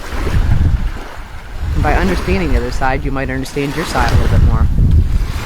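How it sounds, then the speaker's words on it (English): Gusty wind buffets the microphone outdoors beside the water, a steady low rumble running underneath a person talking throughout. "It's definitely a windier day."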